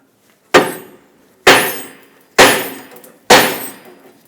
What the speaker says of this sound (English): we'll take a hammer and tap right here on the knuckle.